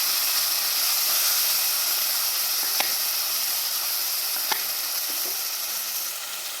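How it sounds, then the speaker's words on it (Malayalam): Boiled jackfruit seeds sizzle in a hot pan, a steady bright frying hiss close by, with a couple of soft spatula taps and the sizzle easing slightly at the end. "എന്നിട്ട് നമ്മൾ വേവിച്ച് വെച്ച ചക്കക്കുരു ഇട്ട് കൊടുക്കും."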